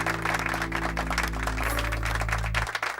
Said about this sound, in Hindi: Please give her a big hand.